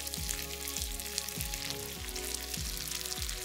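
Onion and ginger frying in a pan on full heat and being stirred while black pepper beef is cooked: a constant bright sizzle with regular low scraping strokes from the stirring, close and even.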